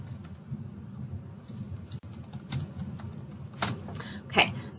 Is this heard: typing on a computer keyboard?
yes